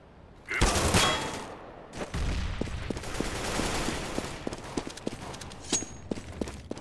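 AK rifle gunfire in a video game: sharp bursts of shots cracking out in short runs over a busy, noisy game backdrop, with scattered single reports afterward and no clear speech.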